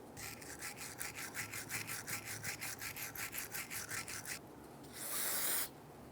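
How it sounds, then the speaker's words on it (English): A flat file scrapes rust off the rear brake caliper bracket of a 2011-2019 Ford Explorer in quick, even back-and-forth strokes, close up, ending with a brief harsher scrape. "it's okay to go ahead and use a flat file to go ahead and clean that up"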